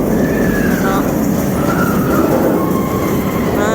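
The Nemesis roller coaster train rushing past overhead, a loud continuous roar of wheels on track with rising and falling squeals, as people talk nearby.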